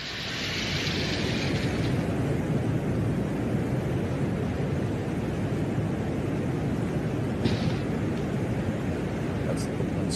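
Venera lander recording from the surface of Venus, where a lens cover pops off: a continuous dense, rumbling roar that fills the whole clip at steady loudness, with a brief faint crack or pop near the end.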